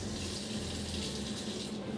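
Tap water pours steadily into a narrow slit drain of a bowl-less sink in a container home, a soft continuous splashing stream with nobody speaking.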